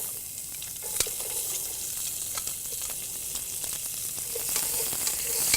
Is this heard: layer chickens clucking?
no